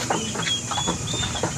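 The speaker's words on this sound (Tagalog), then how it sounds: "Broad-breasted na turkey." Broad-breasted turkey weighing about 5 kilos, kept as a pet, clucking and gobbling close by in a short run of soft repeated calls over steady background noise.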